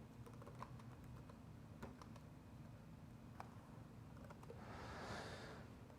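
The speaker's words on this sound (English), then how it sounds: "Just have to type a little bit while we do it." Fingers type on a computer keyboard in quick, light clicks and taps, some in short bursts with brief pauses, faint and close in a quiet room.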